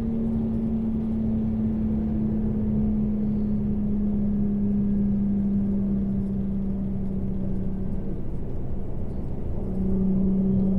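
A steady, low exhaust drone from an Infiniti G35 with stock headers, ISR test pipes and HKS axle-back hums continuously, dropping slightly in pitch near the end as the revs settle.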